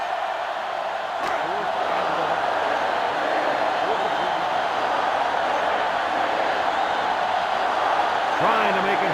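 A steady, broad roar of a stadium crowd fills an NCAA Football 2005 video game broadcast, holding at an even level throughout with a few faint voices rising out of it.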